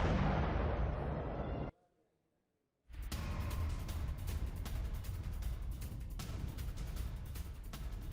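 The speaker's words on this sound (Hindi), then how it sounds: "धमाकों से दहला सीरिया का शहर, सीरिया के कारफा में भीषण विस्फोट" Heavy blasts shake a Syrian city in Kafr news footage, a dense, loud roaring rumble that cuts to near silence for about a second, then resumes as sustained, crackling booms.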